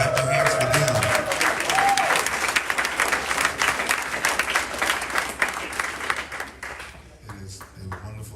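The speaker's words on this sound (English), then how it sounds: "Come on, clap your hands for them." An audience at a 2020 school graduation ceremony applauds the graduating class, steady sustained clapping from a crowd that gradually thins and fades toward the end, with a voice briefly heard near the start.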